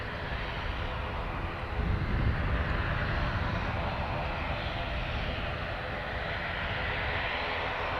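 An Aer Lingus airliner from Bordeaux lands at Dublin Airport, its engine a steady, moderately distant broadband rumble that swells slightly partway through.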